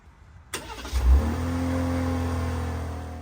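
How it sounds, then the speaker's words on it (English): A 2025 twin-turbo RAM 1500 truck engine remote-starts with a sudden crank and catch, briefly revving before settling into a steady, close idle rumble. "I sent a request to start the engine on your Ram."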